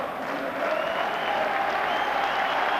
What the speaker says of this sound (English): he's getting some warm applause